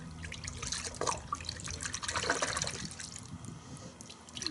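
Chemical Guys Wash and Wax car soap poured into a bucket of water, a steady splashing, gurgling liquid stream running continuously at close range with no talking.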